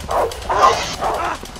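Dog barking in the co-op prison-escape video game A Way Out, three rough mid-pitched barks spaced evenly over a low background hum, fairly loud and close with no talk over them.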